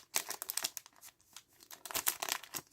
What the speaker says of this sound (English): ripping this open